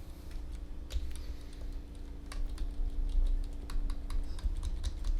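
Steady close typing on a computer keyboard, with irregular light clicks over a constant low hum, no voices.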